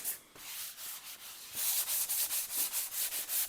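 A sheetrock sanding screen is rubbed back and forth across a drywall patch in an attic-fan replacement job, giving a steady rhythmic scratchy scraping up close that grows more regular and slightly louder partway through.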